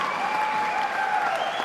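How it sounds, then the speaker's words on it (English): Audience applause fills a swimming championships venue, a steady wash of clapping with a tonal hum running beneath it. "Give her a huge round of applause"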